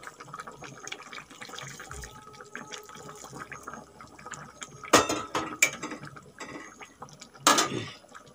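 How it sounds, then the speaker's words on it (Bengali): Hot water poured from a vessel into a pan of Bengali vegetable curry, giving two short bursts of splashing and sloshing over a low kitchen background with faint clinks of utensils. "এই সবজিটায় গরম জল দেওয়ারই চেষ্টা করবেন"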